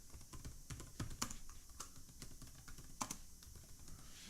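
A document title being typed on a computer keyboard: a quick, irregular run of soft key clicks, close and faint, heard alone without voices.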